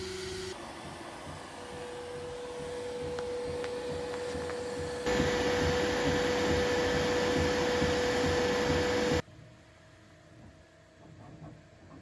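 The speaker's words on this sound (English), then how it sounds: "we'll make sure that this works now with our latest engineering plate on the Bambu printer" A Bambu 3D printer prints a TPU strip on an engineering plate with a continuous mechanical whir and a steady motor tone, growing louder midway before cutting off, leaving faint background hum.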